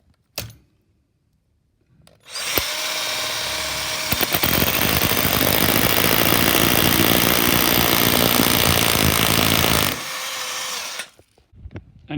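A power drill fitted with a slightly larger bit boring a hole in a living room refurbishment, starting after a short click and running loud and steady for roughly eight seconds before winding down and stopping.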